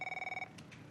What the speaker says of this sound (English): Oh, phone call from Devon.